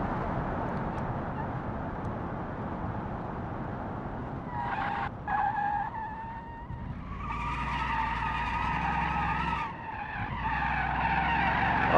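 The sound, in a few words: car skidding and spinning out in video game BeamNG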